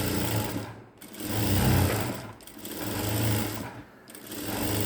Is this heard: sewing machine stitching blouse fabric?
yes